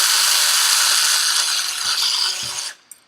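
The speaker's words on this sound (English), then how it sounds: "drilling in my guide holes for the posts." A power drill bores guide holes for posts in a tabletop wargame razorwire terrain base, giving a loud steady high whine for over two seconds that stops abruptly, with a few light knocks.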